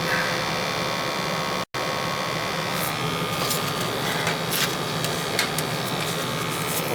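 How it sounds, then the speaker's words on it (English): A small battery-powered printer hums and whirs steadily, with brief clicks and ticks of the mechanism, and one short cutout partway through. "now it's printing better."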